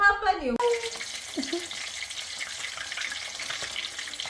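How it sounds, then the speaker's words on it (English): Whole tilapia fish frying in a pan, a steady hissing sizzle at moderate volume, preceded by a brief burst of speech at the start. "We can only fry one by one."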